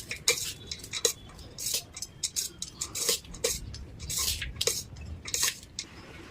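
Tamarind rice with its tempering is mixed in a vessel, producing a quiet run of irregular clinks and scrapes of a utensil against the dish, with no speech.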